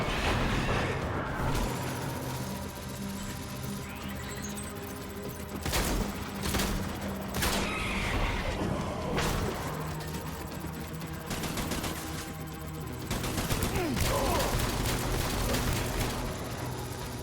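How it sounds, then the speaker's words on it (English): Rapid-firing shotgun in Death Stranding, repeated loud blasts in spaced clusters over a dense rumbling battle backdrop, no talking. "that is one rapid-firing shotgun"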